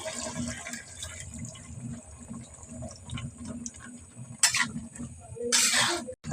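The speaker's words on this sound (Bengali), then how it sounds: "তাই অল্প পরিমাণে পানি দিয়ে দিই" A small amount of water added to greens cooking with potatoes and beans: soft splashing and trickling, growing into louder splashy bursts near the end, over a low steady kitchen hum.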